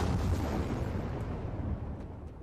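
A grenade blast in the zombie game Dying Light 2, a broad, loud rumbling explosion that fills the low end and decays slowly across a couple of seconds, with no talk over it.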